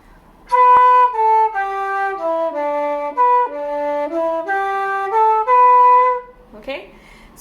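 A flute plays a phrase from a traditional Irish tune at a workshop, a clear run of about a dozen notes stepping down and back up, then a brief breathy sound at the end.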